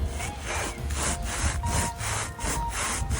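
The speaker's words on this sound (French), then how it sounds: "c'est la scie à métaux" Steady back-and-forth strokes of a metal hacksaw during a camper van fit-out, about six rhythmic rasping passes, close and clear with no talking.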